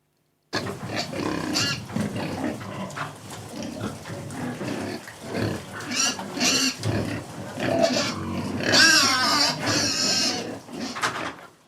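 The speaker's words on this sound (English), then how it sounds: "Those be my pigs." Continuous snorting and grunting from pigs close by, rough and overlapping, rising in intensity toward the end, with no talking.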